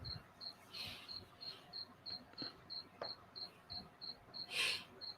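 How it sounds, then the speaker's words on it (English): Crickets chirp in a steady, evenly spaced pulse through a quiet outdoor night, each chirp a short high trill repeating about every third of a second, with faint low background rumble and one brief louder rustle near the end. "What's up with the crickets, man?"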